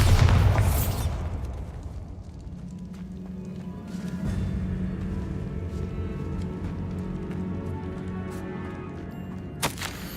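A Bombarda spell blast in Hogwarts Legacy: a loud booming burst at the start that rumbles and fades into a lingering low tail, followed by softer game effects and a sharp crack near the end.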